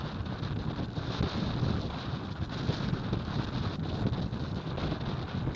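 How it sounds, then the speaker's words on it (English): Strong storm wind buffets the microphone aboard an Achilles 24 sailboat, a loud continuous rushing roar with gusty surges and faint water wash beneath, no voices. "I hadn't intended to sail in such a strong wind."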